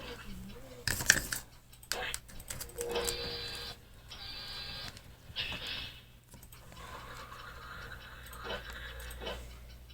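Shrimp shaken with frying batter powder inside a closed container, a close, dry rattling and shuffling in uneven bursts that come and go over about ten seconds.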